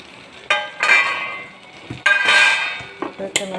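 Poha laddu mix with grated coconut, cardamom powder and palm jaggery being stirred in a bowl, with scraping and clinking of a utensil in short bursts, fairly close, with a faint voice in the background.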